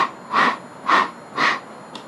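A voice imitates the rhythmic tramp of people marching in drill behind a dormitory, giving three even breathy bursts about half a second apart, then a faint fourth, alone and close.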